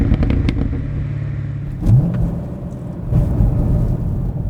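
Exhaust of a 2019 Chevrolet Camaro 1LE rumbling close up, with two sharp crackling bursts from the pipes as the engine lets off.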